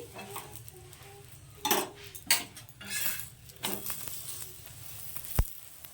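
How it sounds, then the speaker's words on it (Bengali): A spatula pressing and scraping radish paratha frying in an oiled pan, steady sizzle broken by several clanking metal knocks and scrapes, close and fairly quiet, no talking. "একটু খুন্তি দিয়ে আমি এভাবে একটু চেপে চেপে নিচ্ছি"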